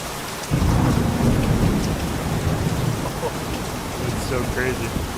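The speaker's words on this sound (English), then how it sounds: "Oh, it's a thunderstorm. It's just gonna get even louder now." In the hunting game Virtual Hunter, a thunderstorm breaks with a sudden loud roll of thunder over heavy rain that keeps pouring steadily, close and enveloping.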